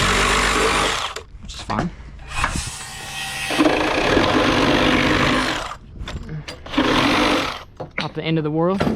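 Power tool cutting notches into 2x6 lumber on a storm shelter house addition build, a loud buzzing whine running for several seconds at a time with short breaks, someone talking briefly between cuts.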